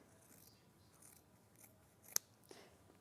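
Small scissors cut through four layers of fabric, giving a couple of quick, faint snips, one crisper than the rest, against quiet room noise.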